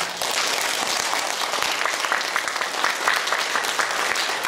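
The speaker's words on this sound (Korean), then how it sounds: "다 같이 큰 박수로 감사하다는 인사를" A hall audience at a Korean filial-piety academy commissioning ceremony gives sustained, dense applause, steady and loud throughout with no break.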